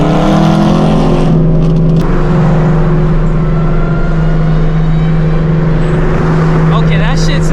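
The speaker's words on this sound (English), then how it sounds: "Honestly, the Hellcat sounds really good." A Dodge Hellcat roars loudly and steadily close by, its engine holding a sustained deep drone throughout, with a voice briefly audible over it.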